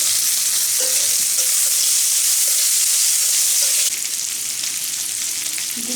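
Green mango pieces sizzle and fry steadily in a hot pan, a loud continuous crackle close up with occasional faint stirring.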